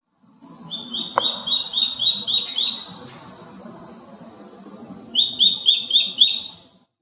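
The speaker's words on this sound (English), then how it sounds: "Goshawk." A goshawk gives two bursts of sharp, repeated high calls, each a rapid run of about six notes, loud and close against a faint rustling background.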